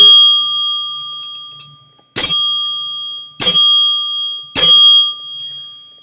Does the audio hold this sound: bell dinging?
yes